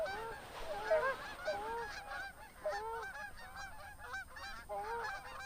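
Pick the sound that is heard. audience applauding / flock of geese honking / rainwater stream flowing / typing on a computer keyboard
flock of geese honking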